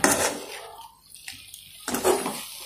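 Water is poured from a vessel into a pan of meal maker (soya chunk) masala curry, a loud splashing gush that pauses, then resumes.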